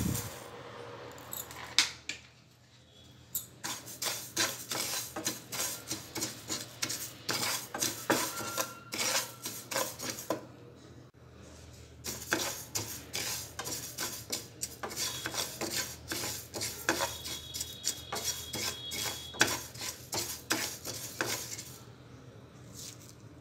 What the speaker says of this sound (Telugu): స్టవ్ మీద ప్యాన్ పెట్టి నువ్వులు వేసుకోవాలి